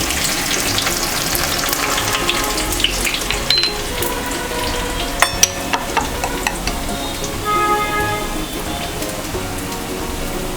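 Cumin and then garlic sizzling in oil in a pan while Punjabi chole is cooked, a steady, close, crackling fry with occasional stirring clinks and no talk.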